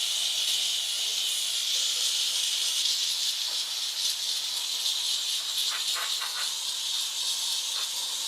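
A steam cleaner hisses steadily and loudly while cleaning the engine bay of a Honda Prelude, a continuous close jet of steam with faint scrubbing ticks from a brush.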